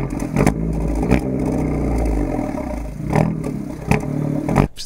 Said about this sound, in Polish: Podczas spokojnej jazdy auto bulgocze i warczy, a wraz z przyspieszeniem dźwięk jest coraz głośniejszy i przeradza się w krzyk.